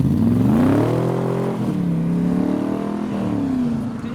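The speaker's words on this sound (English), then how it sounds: "So the V6 F-Type Coupe and now the Cobra V8." A Cobra V8 with side pipes accelerates past at close range on a road leaving a car show, its loud, rising engine note swelling and then fading as it goes by.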